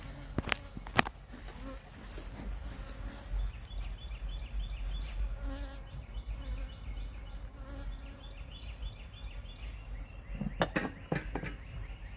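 Honey bees buzz steadily at an open hive, a close, continuous insect drone with a few faint knocks and handling sounds at the start and end.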